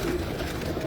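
Pigeons coo softly in a short, low murmuring burst on a rooftop in Lahore, with faint background noise and no clear voices.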